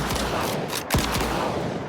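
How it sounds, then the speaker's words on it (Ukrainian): A RAM-2 shotgun fires in STALKER 2, with two quick sharp blasts about a quarter second apart close up, over a steady backdrop of game ambience. "вона швидко стріляє, да. Два постріла, потім коротенька перезарядочка."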